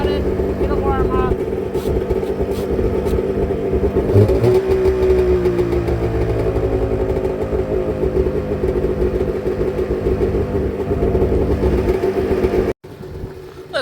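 A cold carbureted engine warming up after a cold start on a snowy day, with a loud steady idle, a few blips of revving partway through, and a voice talking over it before it cuts off near the end.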